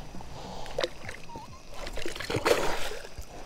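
A small flathead catfish splashes back into the water beside a kayak at night: one brief close splash, with a lighter slosh and trickle of water just before it.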